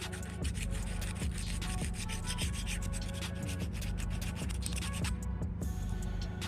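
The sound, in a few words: filing a burr off a metal flange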